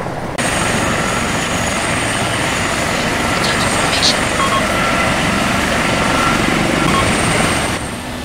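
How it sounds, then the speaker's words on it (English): An enemy helicopter in a realistic military shooter game drones steadily overhead, a loud continuous rotor and engine roar that fills the whole stretch while voices talk faintly underneath. "Enemy chopper."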